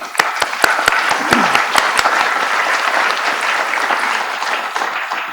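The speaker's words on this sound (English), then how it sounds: "I'd like to give those folks that have been working on these 2 projects a round of applause" A round of applause from the audience at a fall semester in-service staff gathering, steady dense clapping holding through most of the stretch with a few sharp claps standing out near the front, slowly thinning toward the end.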